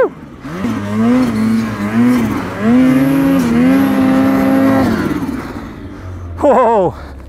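Ski-Doo Summit X 850 Turbo snowmobile engine revving up and down in several loud, close bursts with pitch climbing and falling, ending with a sharp high rev after a brief lull.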